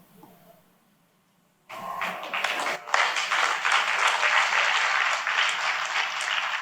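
A church audience breaks into clapping after a moment of near silence, the applause starting abruptly and continuing as a dense, steady wash of many hands for several seconds.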